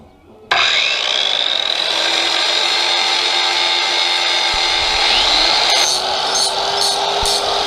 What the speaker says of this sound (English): I'm just gonna hit it with a big angle grinder and cut these edges down